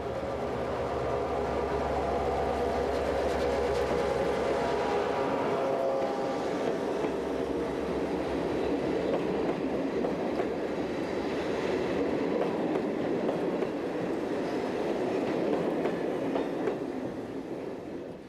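Diesel train hauled by a Class 55 locomotive with a rake of M4 coaches on a Belgian line, heavy low engine drone giving way to steady rolling rumble and wheel noise, loud and continuous throughout.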